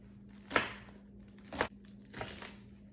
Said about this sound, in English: I'm just going to take my knife and cut the leaves about 1 inch apart.